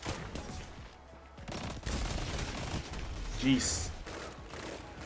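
Gunfire in a Destiny 2 PvP match, bursts of shots with a sniper rifle blast, under a player's brief exclamation and game sounds.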